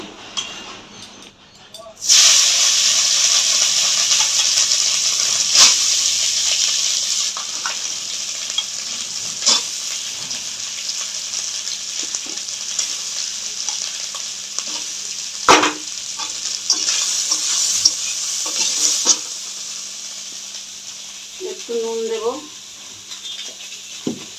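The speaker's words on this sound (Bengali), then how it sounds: "আলু ভাজার তেলের মধ্যে আমি সোয়াবিনটাকে ভেজে তুলে নেব" Soybean chunks frying in hot oil give off a loud, continuous sizzle that starts abruptly and holds steady, with occasional stirring scrapes and clanks near the end.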